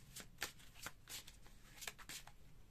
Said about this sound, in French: Je vais tirer 3 cartes avec ça.